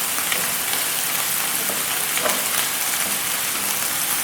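Masala with yogurt frying in a pan for beef kofta, giving a dense, steady sizzle and crackle throughout, close up and fairly loud, without voices.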